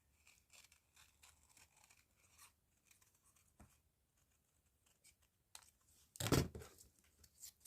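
Quiet snipping of scissors through paper, a few soft cuts followed by one sharper, louder crisp snip near the end.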